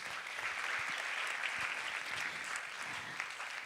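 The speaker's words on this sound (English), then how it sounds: "they deserve a huge round of applause" An audience at a Bharatanatyam Arangetram gives the musicians and gurus a round of applause, a dense, even wash of clapping from a crowd that holds steady at moderate volume throughout.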